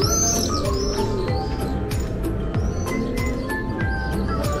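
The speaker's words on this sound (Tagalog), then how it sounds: "mga pinamamahayan na rin siya ng ibon" Birds nesting in the stones of the Wailing Wall in Jerusalem give high, scattered chirps and tweets over a dense, steady murmur of a large outdoor crowd.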